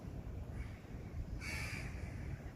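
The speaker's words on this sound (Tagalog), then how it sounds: "uwak ba naman na iyan" One hoarse caw from a crow at a moderate distance, over a steady low outdoor rumble.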